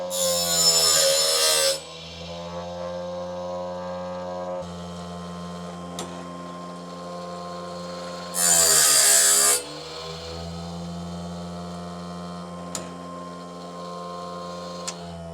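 Brand-new sawmill blade being sharpened on a grinder, a steady humming motor tone broken by two loud bursts of harsh grinding, with faint clicks between them.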